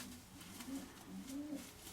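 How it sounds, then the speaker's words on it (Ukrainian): A large white pigeon coos in low, soft repeated calls close by, the rolling notes rising and falling over a quiet background with no talking. "Ось білий голуб, такий крупненький голуб."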